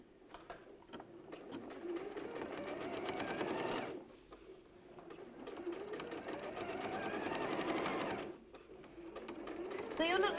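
Sewing machine running a locking stitch on quilting fabric, two long steady bursts of rapid mechanical whirring separated by a short pause, close and loud, with a third burst starting at the end.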